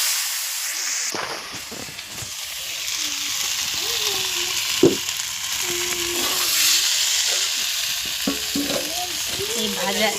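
Turmeric and chili powder with boiled potatoes fry in oil in a pan, giving a continuous close sizzle with scraping stirs and occasional clinks of the spoon against the pan.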